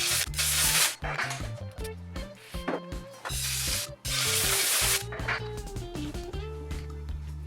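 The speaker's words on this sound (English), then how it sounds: "spraying again with the air compressor" A hissing spray of compressed air from an air compressor bursts in and out, blowing metal shavings, over a loud droning machine hum with shifting tones, close and continuous.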